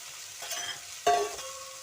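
Half a kilo of finely chopped beans tipped into a pan of fried onions for beans palya, a soft sizzle, then a sharp clatter as they land, followed by stirring and continued frying, no voices.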